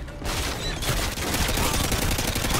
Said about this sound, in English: A few close calls with RPGs and machine guns positioned up